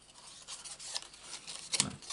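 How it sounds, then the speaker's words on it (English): Scissors snipping paper to cut out a small animal's tail shape for a Stampin' Up handmade card, heard as quiet, close, rasping cuts with a sharper snip near the end and no talking. "just to finish off cutting out this last little bit. Cut out his tail."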